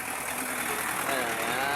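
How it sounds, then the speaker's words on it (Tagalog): Big trucks idle on C6 Road in a dense, continuous low engine rumble that is close and loud, with a voice faintly mixed in. "Guys, daming truck dito guys."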